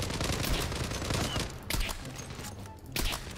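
Rapid rifle and machine-gun fire rattles in dense bursts during a Gallipoli battle video game, loud and close, with short pauses between volleys and no speech.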